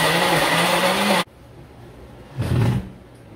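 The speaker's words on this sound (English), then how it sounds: "And we're going to hit the blend button." A blender whirs loudly for about a second, then cuts off abruptly, followed by quiet and a short muffled rumble.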